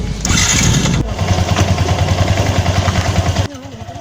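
A motorcycle engine catches and settles into a loud, close, pulsing idle, the putter running steadily for a few seconds before dropping in level near the end.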